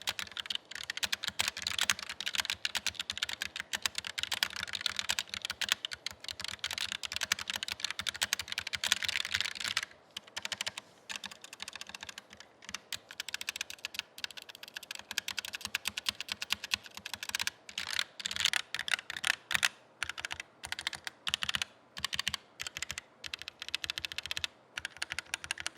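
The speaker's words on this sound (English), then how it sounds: "still pretty clacky when you are tapping on these keycaps on top of that metal plate" Typing on a Roccat Vulcan II Mini keyboard with linear switches and keycaps over a metal plate, a fast, continuous run of close, clacky keystrokes with a few brief pauses.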